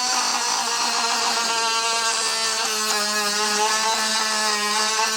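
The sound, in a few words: Dremel with polishing bit polishing rusty arcade joystick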